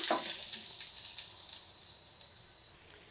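Chopped onions fry in a pan for a lemon leaf bharta, making a faint, short hissing sizzle that fades slightly over a few seconds.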